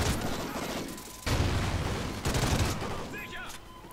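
Gunfire in the shooter Call of Duty Ghosts: dense bursts of shots in loud waves, pausing briefly and resuming, with a voice talking faintly underneath.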